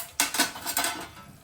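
Cooking vessels are handled close by, giving a short run of metallic clanks and knocks in quick succession that fade out within about a second, with no talk.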